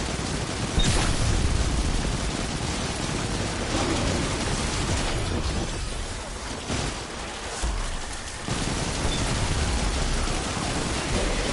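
Rapid automatic gunfire from a weapon in the video game Destiny 2 rattles as a dense, continuous burst, loud and close, with brief dips in the stream of shots.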